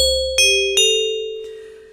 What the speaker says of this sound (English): we're getting this kind of bell-like sound. Or metallic is another way to say it